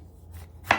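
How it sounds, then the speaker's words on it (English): A single crisp knife chop through an onion lands on a cutting board, close and fairly sharp, after a brief quiet stretch. "we're going to cut the onion"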